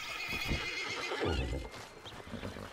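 A horse lets out a loud, close whinny, with hooves clip-clopping in the background.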